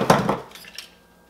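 A kitchen knife is picked up from among metal utensils while a seafood sauce is being made, giving a few quick, close clinks and rattles in the first half second that then fade into quiet.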